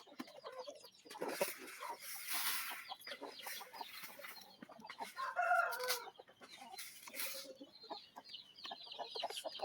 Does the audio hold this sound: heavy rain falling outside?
no